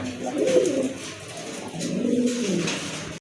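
Desi pigeons coo in two low, rolling phrases, close and fairly loud, with no talking over them.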